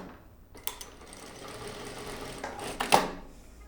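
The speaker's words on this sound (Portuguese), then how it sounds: "quando tu costura, faz um ponto condensado" Jack A4E industrial electronic straight-stitch sewing machine running a dense condensed stitch, a steady mechanical whir with a few clicks and a louder burst near the end, no speech.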